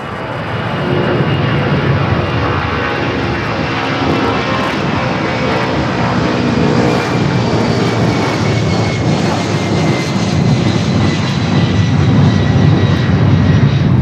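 A passenger airplane takes off on runway 25 Left at Los Angeles International Airport, a steady loud engine roar rising slightly as it rolls, heard near and continuous with no talk.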